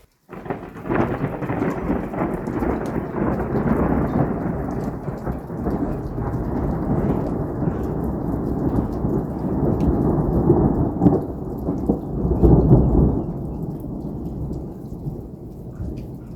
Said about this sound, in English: The rain has definitely started a lot sooner than I thought it was going to.